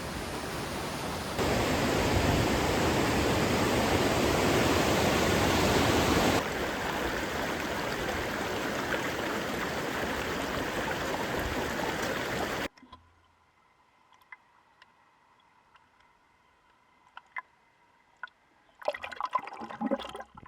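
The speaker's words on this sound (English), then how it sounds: "I have to cross an angry glacier-fed river to get there" A rushing glacier-fed river roars as a loud, dense wash of water noise for several seconds, then cuts to near quiet with faint scattered sounds before a brief return of water noise at the end.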